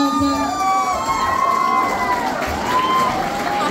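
A crowd cheers and shouts at a 2024 carnival election as candidates are presented. The noise is loud and continuous, with a dense babble and some high tonal sounds through it.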